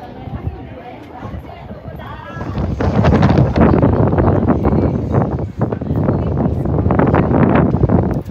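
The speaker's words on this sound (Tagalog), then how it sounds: "Mahangin na siya." Wind at sunset in Santorini, Greece, buffets the microphone in loud, rumbling gusts that build after a few seconds, with tourists' voices and crowd chatter faintly mixed underneath.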